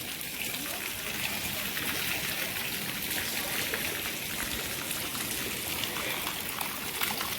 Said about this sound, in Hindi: ये नाली इस बात का सबूत है कि 4 घंटे लगातार बारिश पड़ने के बावजूद भी अभी बारिश बंद नहीं हो रही है।